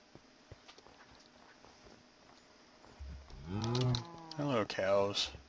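Cows moo in a Minecraft world running the Gregtech modpack: after a quiet stretch of soft ambience, several loud, drawn-out low moos follow one another close by.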